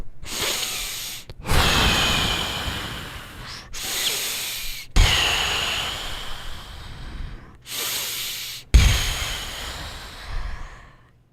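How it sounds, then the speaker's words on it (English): Heavy, laboured breaths from someone in pain from testicular torsion, long hissing inhales and exhales with short gaps between them, close to the microphone and strained. "this is how I was breathing. This is how I sounded."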